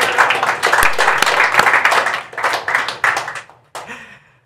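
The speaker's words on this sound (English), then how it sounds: "give a big round of applause to Sebastien Thomas" A conference audience claps for a speaker taking the stage, with loud, dense applause that holds, then thins into scattered claps and fades out, leaving a few faint sounds at the end.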